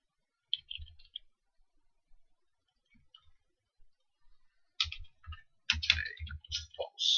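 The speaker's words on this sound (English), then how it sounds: "so I've just been typing all this away" Computer keyboard typing with light clicking keystrokes, a short burst near the start, then a few sparse taps and denser, louder runs of keys toward the end, close and alone.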